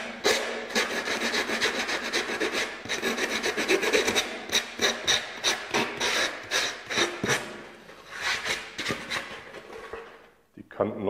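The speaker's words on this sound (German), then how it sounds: "die Kanten noch so ein bisschen anschleifen mit Schleifpapier." Sandpaper rubbed along the edges of styrofoam ceiling molding, giving repeated rhythmic rasping strokes close up, some fast and some slower, that stop near the end.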